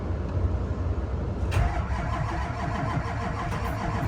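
A Duramax diesel truck with a 68mm turbo cranks and fires on a super cold early morning, a loud, continuous churning roar heard from inside the cab that catches and settles into a rough idle.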